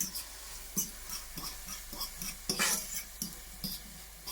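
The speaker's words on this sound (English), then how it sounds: "And then give it a stir again." Chickpeas with black pepper are stirred in a pot, making a series of spaced scraping and clinking strokes over a faint sizzle, fairly quiet and close.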